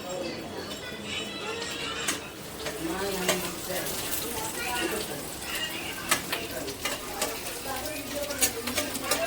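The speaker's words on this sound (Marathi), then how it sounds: "थोडा लसूण आणि कढीपत्ता भाजून झाला हे बघा" Garlic and curry leaves frying in hot oil for a dry chicken dish, giving a continuous crackling sizzle with scattered sharp pops and some stirring scrapes, heard close with a voice speaking over it.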